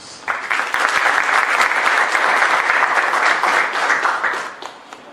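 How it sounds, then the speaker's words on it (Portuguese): An audience at a university roundtable event applauds loudly as an engineer is introduced. The dense, steady clapping lasts about five seconds before fading at the end. "A salva de palmas."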